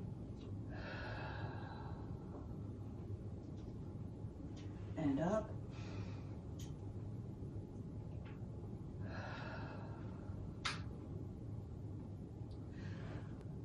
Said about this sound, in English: we're doing breathing exercises at the beginning and ending of training